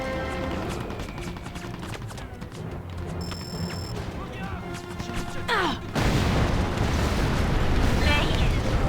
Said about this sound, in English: Roger, target received. Bombs free.